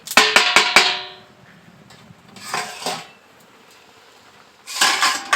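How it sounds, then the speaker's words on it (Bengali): A metal lid clanks several times as it is lifted off a cooking pot of boiling potato, green banana and papaya curry for rohu fish jhol. The sharp clatter is close and loud, then fades into quieter kitchen noise and later bursts of hissing. "এখন আমি ঢাকাটাকে খুলছি"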